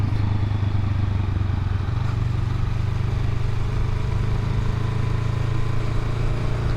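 A Honda Rebel 500 motorcycle engine runs steadily, a loud, continuous low rumble that holds even throughout with no clear revving, alone with no talk.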